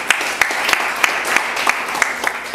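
A church congregation claps together in a steady patter of applause, fairly loud and continuous, with sharper individual claps standing out.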